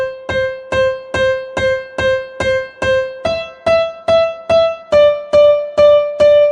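Piano right hand plays a simple song melody, a steady run of evenly spaced single notes about twice a second, the pitch stepping up partway through, clear and close with no talking.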